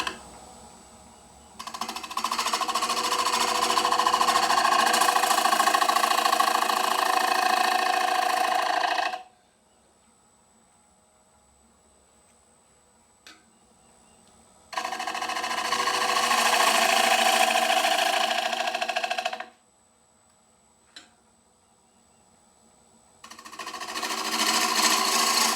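Woodturning lathe making a push cut on the rim of a mulberry wood bowl, a loud steady whirring hiss in three long passes separated by quieter gaps with faint machine hum.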